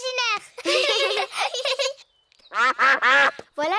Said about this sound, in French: Oh, ce sont les canards.